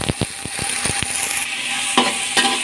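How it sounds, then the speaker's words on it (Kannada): Double beans and peas fry in hot oil in a pan while a fenugreek pulao is prepared, with a steady close sizzle broken by sharp scraping stirs, several early and a couple later. "ಈಗ ಹುರ್ಕೊಳ್ಳೋಣ ಎಣ್ಣೆಯಲ್ಲಿ."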